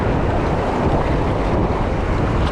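River water rushes loudly and continuously around a raft on the Wenatchee River in spring high water, a dense roaring wash mixed with wind buffeting the microphone, with no one talking.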